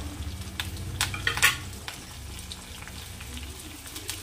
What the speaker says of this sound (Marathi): छानला परतून घ्यायचं आहे